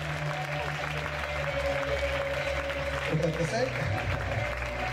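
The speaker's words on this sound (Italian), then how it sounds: "un forte applauso a tutte le miss" Applause from the audience for the contestants at the Miss Principessa d'Europa national pageant final in Riccione, a steady wash of clapping beneath someone talking and music playing.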